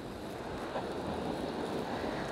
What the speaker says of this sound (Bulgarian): Тук днес така духа вятър, но той после ще затихне.